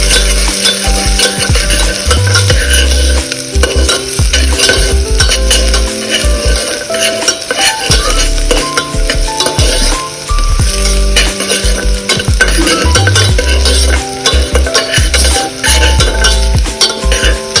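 Onion and other misal ingredients sizzle loudly in hot oil in a pan while a utensil stirs and scrapes them steadily, with clinks against the pan and music playing underneath.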